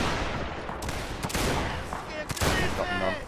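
Massed musket fire from a line volley in the Napoleonic Wars video game, scattered overlapping cracks and booms in quick succession, loud with a faint voice underneath.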